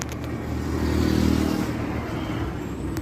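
A car passes close by on a road, its engine hum swelling to a peak midway and then easing off as it moves on, with no talking.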